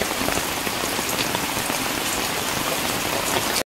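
Heavy rain pours down outdoors in a dense, loud, continuous hiss that holds steady to the end, with no talking.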